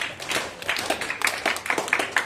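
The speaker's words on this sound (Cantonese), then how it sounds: "咁即係我哋就不如俾熱烈嘅掌聲俾Lester 啦" A few people give Lester a short burst of scattered applause at an industry sharing session. The claps are light, uneven and moderately close.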